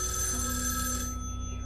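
A telephone rings in a video game, a loud electronic bell tone that rings steadily and then cuts off partway, with no one speaking over it.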